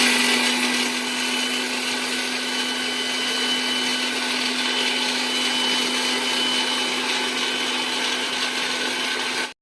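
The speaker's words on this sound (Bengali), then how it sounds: "মশলাটা মিক্সিতে গুঁড়ো করে নেবো" A mixer grinder runs at full, steady power for nearly ten seconds, grinding roasted spices for a village-style jujube (kul) pickle, a loud continuous whir with a constant hum that stops abruptly at the end.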